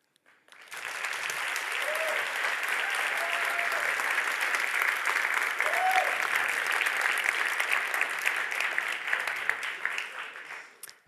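Audience applause during a talk, a full burst of clapping that swells up quickly, holds steady for several seconds and then fades out, with a few faint voices in the crowd.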